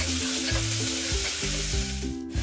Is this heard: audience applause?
no